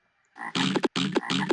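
Frogs in the Zoombinis puzzle game give three loud, close croaking calls in quick succession, each a raspy burst with a sharp ending.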